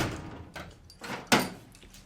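A shop door with a broken latch rattles and bangs, with a few scraping knocks building to one sharp slam near the end, close and fairly loud in a garage setting.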